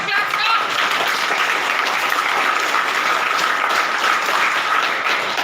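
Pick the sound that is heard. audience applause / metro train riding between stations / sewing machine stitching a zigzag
audience applause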